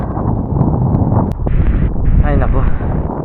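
Strong wind buffets a microphone on a small fishing boat at sea, a loud continuous roar with low rumble, blowing steadily throughout under a short, faint stretch of talk.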